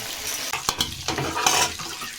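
Mango pieces for pickle being stirred in a pan with five-spice seeds, giving close, irregular scraping strokes over a steady oily sizzle, with a few sharp knocks of the spoon against the pan.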